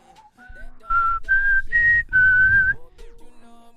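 Someone whistles a melody of several sustained, clear notes over a few seconds, loud and close, with no talking.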